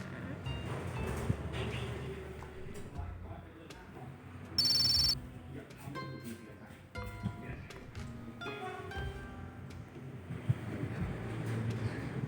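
A brief electronic telephone ring cuts through a busy, rumbling background of game noise and muffled voices, with chiming tones scattered throughout.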